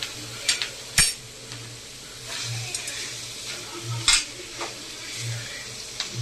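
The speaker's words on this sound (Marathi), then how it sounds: "आता आपण नूडल्स टाकून घेऊया, हे असे बॉईल करून ठेवलेत नूडल्स" Boiled noodles tossed into softened fried vegetables in a pan, a soft sizzle under scattered metal clinks and scrapes of a spatula against the pan, with a few sharper knocks.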